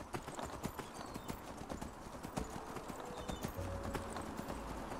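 A horse trots with steady clip-clopping hooves in the Enderal: Forgotten Stories game, the rhythm continuous and fairly loud over a constant ambient background, with no voices.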